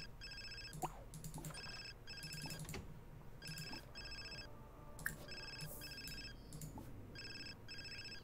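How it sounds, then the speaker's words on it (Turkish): A phone rings inside The Sims 4 video game, a soft electronic ringtone repeating in short regular bursts with brief pauses, quiet and steady over low background sound, with no talking. "Telefon aradılar, işe çağırdılar ya."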